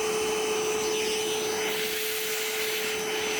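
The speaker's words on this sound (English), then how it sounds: "So I'm gonna get a vacuum." A vacuum cleaner runs steadily while cleaning the roof rails of a Lexus GX470, a loud, continuous close-up drone with a thin whine through it and no gaps.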